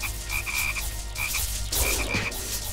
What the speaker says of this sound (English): Might be Suwako or something because there's a lot of frog here